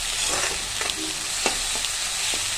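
Moong dal frying with onion greens in a hot pan, a steady close sizzle with scattered small crackles and light stirring scrapes, loud and unbroken with no voices.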